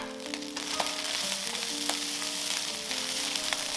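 Chinese sausage egg fried rice with green onion being stir-fried and tossed in a wok, a loud continuous close sizzle with faint tonal ringing and occasional sharp clinks of the spatula.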